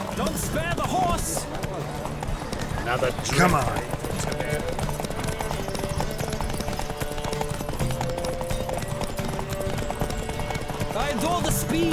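Horses galloping in a race in The Witcher 3, with steady rapid hoofbeats running continuously under a game music score and occasional voices.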